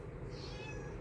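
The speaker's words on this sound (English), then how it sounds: "I'm sitting around here talking to these damn cats and they actually talking back." A house cat gives a single drawn-out meow, thin and fairly faint over a low background hum.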